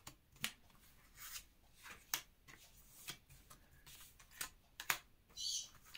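Tarot cards are shuffled by hand before a reading, giving a series of soft, quick riffling and tapping bursts at irregular intervals, faint and close, with no talk.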